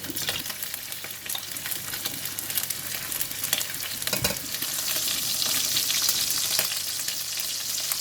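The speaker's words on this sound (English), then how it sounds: "When the oil is hot, I'm going to put in the meat." Pork belly frying in hot oil in a pan, a steady loud sizzle and crackle running throughout with sharp pops, no voices.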